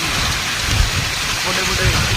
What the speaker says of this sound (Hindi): बहुत तेज तूफान और कितने जबरदस्त काफी ओले रह रहे हैं